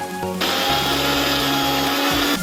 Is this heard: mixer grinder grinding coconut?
yes